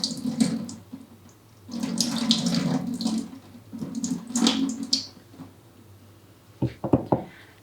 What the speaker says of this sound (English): I'm just going to go to the sink and just gently rinse this off.